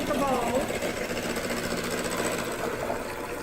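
An electric mixer whirs steadily and continuously as it mixes ingredients for manicotti in a bowl, a close, even mechanical drone.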